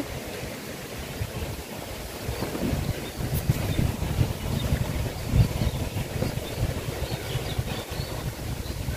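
Strong wind roars and buffets continuously for several seconds beside an outdoor cooking stove, a loud, rushing noise with gusts swelling and fading and no voices.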